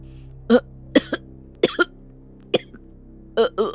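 Someone nearby coughs repeatedly, short harsh bursts coming singly and in quick pairs, loud against an otherwise quiet room.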